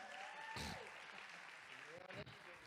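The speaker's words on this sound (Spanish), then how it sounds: "Un fuerte aplauso para los actores." A church congregation applauds actors with a brief burst of clapping while a voice speaks over it and others chatter nearby.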